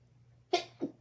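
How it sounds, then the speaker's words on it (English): A single person's sneeze, sudden and close in a quiet room, followed by a short breathy catch of air. "oh, I'm going to sneeze."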